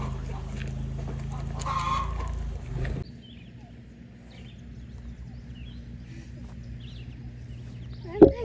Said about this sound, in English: Mama Turkey and her 3 chickens.